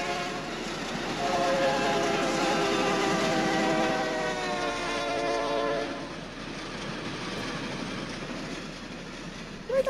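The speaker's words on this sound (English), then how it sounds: "Train!" A train rumbles toward the listener through a sewer in a video game, its loud, steady roar carrying a faint whine of tonal lines for several seconds before easing slightly toward the end.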